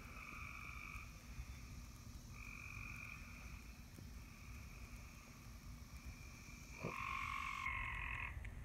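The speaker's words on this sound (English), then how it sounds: "Looks like the tree frogs are out." Tree frogs call at night in a steady chorus of sustained trilling croaks, layered and overlapping, with one closer frog growing louder toward the end over a faint hiss of background noise.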